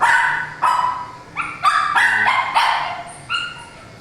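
A dog at a grooming session for a haircut barks and yips angrily in a series of sharp, close bursts, with whimpering notes between them.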